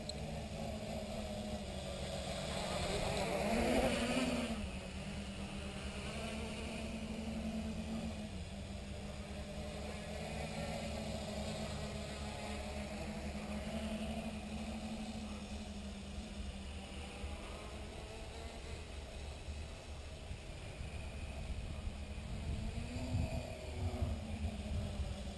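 A quadcopter drone's electric motors whir steadily through its first flight, a faint sustained hum that swells briefly early on as the throttle rises, with no talking.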